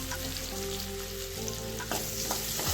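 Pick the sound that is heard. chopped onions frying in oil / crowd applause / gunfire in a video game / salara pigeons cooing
chopped onions frying in oil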